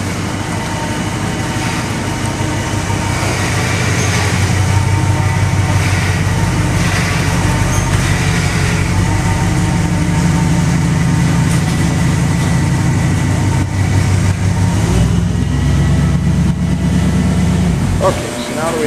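A Jeep's engine runs steadily at a low, droning idle throughout its first test drive after repairs, loud and close, with people talking over it.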